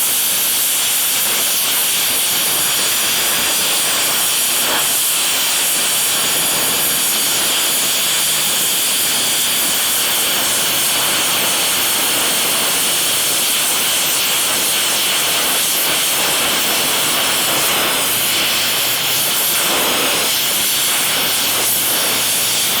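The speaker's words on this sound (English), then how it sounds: "we'll weld this real good on both sides" Arc welding a heart-bar insert into a steel horseshoe, a steady close crackling hiss that runs unbroken and fairly loud with no talk.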